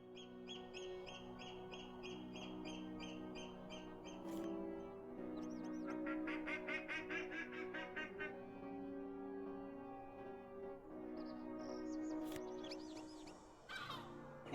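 Ducks quack and other birds chirp in a scenic in-game spot during a birding hobby in The Lord of the Rings Online, with repeated calls layered over a steady ambient music bed.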